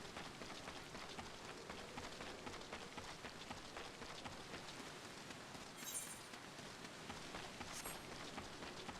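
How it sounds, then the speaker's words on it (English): Steady rain patters continuously on surfaces while a character runs through it in Final Fantasy XIV, a soft even wash with a couple of faint brighter ticks. "Running in the rain."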